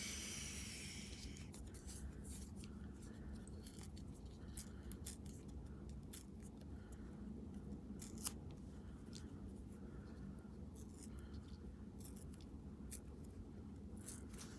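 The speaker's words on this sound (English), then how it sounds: "watching somebody tear paper is so riveting" Masking paper being torn by hand for homemade washi tape, a steady run of close, dry ripping and rustling strokes with brief crisp snaps over about fifteen seconds, no voices.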